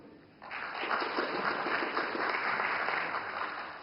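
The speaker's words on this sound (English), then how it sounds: "So a warmest round of applause to welcome all of them." At a panel discussion on the Belt and Road Initiative, an audience welcomes guests with a round of applause that starts abruptly and holds as a steady, fairly distant wash of clapping.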